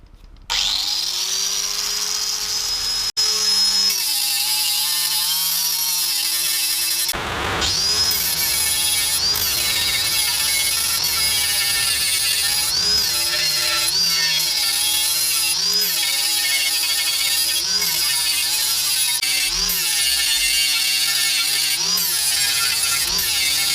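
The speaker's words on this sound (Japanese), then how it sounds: "早速グラインダーで磨きをかけてみます" A grinder polishes a rusty steel Jackal expansion chamber from a TZR250R two-stroke motorcycle, its loud continuous whine starting up, briefly dipping, then grinding steadily with shifting pitch as it works the metal.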